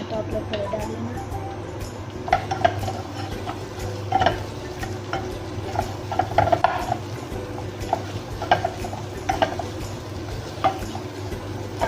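Small chopped onions fry in a pan for an omelette, a low steady sizzle with repeated scraping and clinking of a utensil stirring, close by, while someone talks over the cooking.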